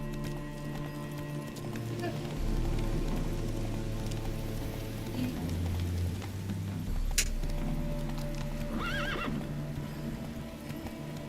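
The horse Roach gallops in Witcher 3 with steady clip-clop hoofbeats and a clear neigh, over game music and rain, with a voice talking.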